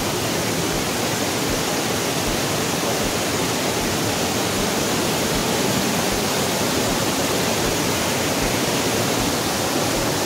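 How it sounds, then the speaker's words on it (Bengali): A monsoon waterfall at Netarhat roars as a steady, dense wash of falling water, loud and unbroken, with no voices. "আর তার মধ্যে এই ওয়াটারফল খুব সুন্দর লাগছে"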